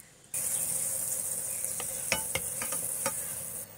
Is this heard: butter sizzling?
yes